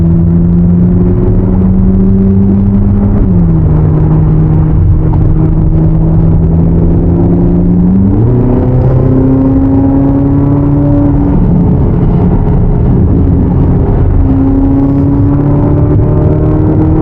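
A 2025 Corvette Z06 accelerates steadily up to highway merging speed, its engine note climbing through rising harmonics with a brief dip at each gear change, loud and close with constant road rumble underneath.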